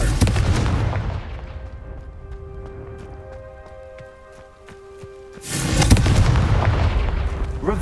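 Confringo blasting spells go off in Hogwarts Legacy as two loud booming blasts. A quieter stretch with faint ringing tones sits between them, and the second blast strikes a few seconds after the first.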